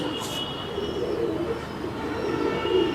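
A male Madrazi pigeon and others coo softly in low, throaty murmurs over a faint, steady background hum.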